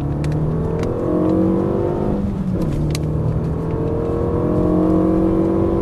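A car on the straight at the Dreux racing circuit, its engine note rising steadily as it accelerates through the gear, a continuous close whining drone with faint clicks and knocks inside the cabin.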